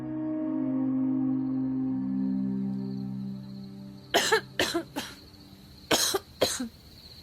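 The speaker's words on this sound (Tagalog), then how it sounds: "nung marinig kong umuubo-ubo na ng peke" A series of deliberate fake coughs, about five short bursts grouped in pairs and singles, heard close after a steady low hum.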